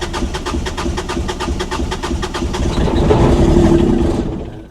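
A diesel engine on a salvage vehicle listed as a non-runner, having sat long enough to lose its prime, cranks with a rapid rhythmic churning and then catches into a louder, steady running drone, close and loud.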